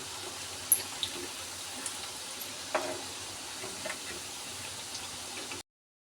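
Bhajani chakli frying in hot oil, a soft, steady sizzle with occasional small pops and crackles, quiet and close, alone without talk before a sudden cut to silence.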